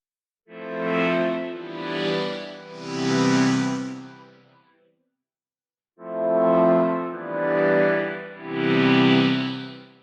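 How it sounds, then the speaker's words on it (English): Two phrases of a sustained, lush synth pad chord sequence, each three swelling chords with a spacious, reverberant tail, separated by a brief silence. "let's add a reverb."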